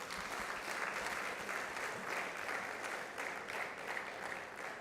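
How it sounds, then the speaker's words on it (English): Sustained applause from an audience at a data science chapter launch event, a steady dense wash of clapping that carries evenly through the whole stretch with no voices on top. "can I ask us to give the panel a huge round of applause?"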